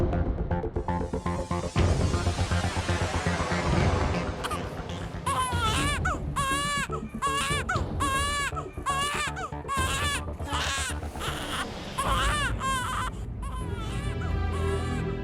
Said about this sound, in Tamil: அட, எங்க இருந்தோ குழந்தை அழுகிற சத்தம் கேட்குது.